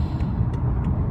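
A 2015 BMW 528i accelerates, its engine giving a steady, close low rumble with a few faint higher hisses over about a second.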